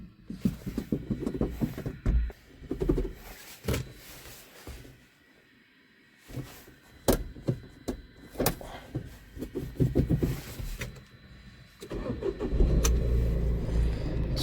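A tractor cranks and starts up close by: a short starter whir, a brief lull, then the engine catches and settles into a loud, steady running rumble.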